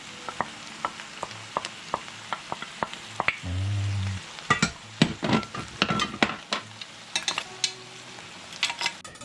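Food fries and sizzles in a hot, steaming pan over a wintry kitchen stove, with repeated utensil scrapes and clinks on the pan and a short bubbling burst partway through, no talking.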